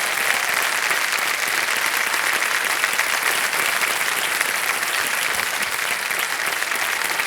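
A studio audience on the Kaun Banega Crorepati quiz show bursts into loud, dense applause after a correct answer, a steady unbroken roar of clapping with no pause.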